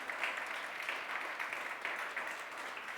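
A church congregation claps in praise during a Spanish-language worship service, a soft, diffuse wash of applause heard from a distance, steady and unbroken for a few seconds.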